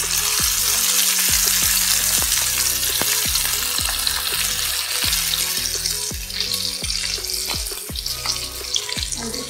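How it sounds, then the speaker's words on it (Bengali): Spiced lamb chops sizzle loudly in a hot pan, a steady close frying hiss broken by repeated rhythmic scraping and stirring taps of a utensil. "এতে ল্যাম্প চপগুলোকে অ্যাড করে দেবো"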